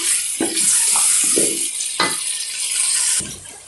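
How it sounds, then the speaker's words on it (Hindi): Meat and potatoes fry in ghee and masala for aloo gosht. A bright, continuous sizzle is broken by several close stirring scrapes and thumps against the pan. "अब इसकी भुनाई करेंगे।"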